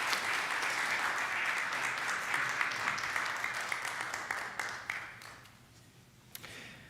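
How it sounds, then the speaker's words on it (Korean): A church congregation applauds during a Korean Presbyterian Sunday service, a full, dense round of clapping that gradually thins and fades toward the end, with a few scattered late claps. "우리 장로님께 축하의 박수 드리겠습니다"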